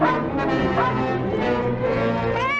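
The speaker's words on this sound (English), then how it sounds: "Only Tam barking his fool head off." A dog barks and yelps excitedly in a dense, continuous stretch, with whining tones rising at the end, close and loud.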